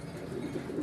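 Red Rajgolla male pigeon cooing close by in a steady, low, continuous murmur that swells slightly toward the end, with no talking.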